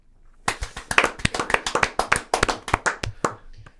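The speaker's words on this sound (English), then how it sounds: "I was having a moment of applause there, Seb." Hands clap in applause in a studio football discussion setting, a quick run of about twenty sharp, close claps of uneven rhythm that fade out near the end, with no talking over them.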